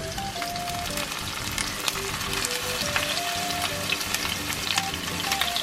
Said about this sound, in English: Fry the cheese. Ooh, like that sound, baby.